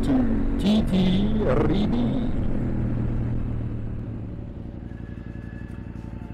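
Motorcycle riding along a road in Titiribí, its engine rumbling steadily up close with a few brief whirs and rising notes, then settling into a lower, quieter drone; a voice is briefly heard.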